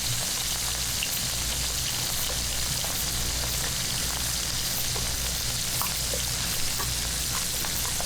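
Salmon fillet pan-searing on the stove, a loud, constant close sizzle with fine crackles and occasional pops, steady throughout without any speech.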